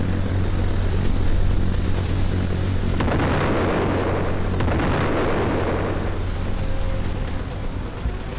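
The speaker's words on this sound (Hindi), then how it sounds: "और फिर होता है वो धमाका जैसे ही प्रिसीजन गाइडेड बम अपने टारगेट से टकराता है।" A loud, rumbling explosion of a precision-guided bomb hitting its target swells into a long, roaring wash of noise that slowly fades.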